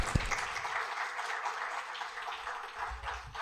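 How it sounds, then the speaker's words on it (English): Audience applause after a keynote at a women's leadership event, a steady wash of clapping, moderately faint and fairly distant, with no talk over it. "Can we give her a big applause?"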